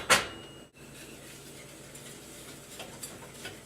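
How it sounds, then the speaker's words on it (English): Egg yolks and water are whisked in a bowl, giving a soft, steady scraping and swishing with light clicks of the whisk against the sides, close by and fairly quiet. "Just whisking it."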